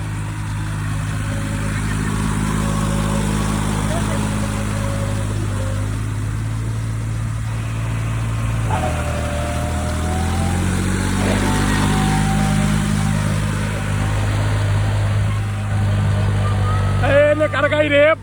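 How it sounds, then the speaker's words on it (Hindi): A tractor engine, from a New Holland, Eicher or Swaraj 4x4, labors at a tractor pulling contest with a loud sustained drone that shifts pitch midway, while people talk over it. "ट्रैक्टर भैया है पावरफुल"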